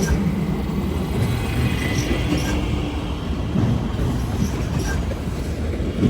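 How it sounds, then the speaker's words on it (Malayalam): A train passes near Cologne Cathedral in Germany, a steady, loud rolling rumble with faint rhythmic wheel clatter that continues throughout at close range. "ഇതിടയ്ക്കൊരു ട്രെയിൻ പോവാണ്."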